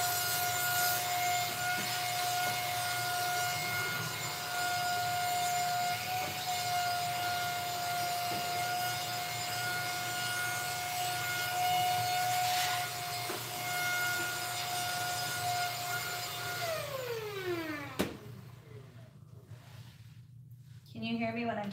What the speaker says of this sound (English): Can you hear me when I'm talking with the vacuum on?